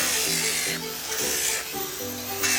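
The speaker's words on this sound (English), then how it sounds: "Sanding the claws on the big bear." Power sanding on the claws of a large chainsaw-carved wooden bear gives close, loud rasping bursts that start and stop every second or so over a droning motor hum.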